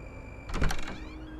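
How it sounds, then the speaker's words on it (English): A door swings open with a short creaking, rattling sweep that peaks briefly, then fades back into a steady low hum. "and the door swings open."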